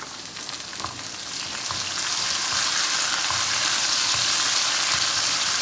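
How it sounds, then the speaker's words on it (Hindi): Tomatoes and green chilies hit a hot pan of cooked garlic and ginger for a masaledar ridge gourd curry, a steady sizzle that swells and grows louder after the first two seconds, with no talking. "अब डालते हैं इसके अंदर टमाटर और सब्ज़ मिर्चें।"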